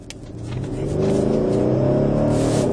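A Mercedes GL63 AMG with a 5.5-litre bi-turbo V8 accelerates hard, its engine note swelling from a moderate hum into a loud, sustained rising roar heard from inside the vehicle, no voices.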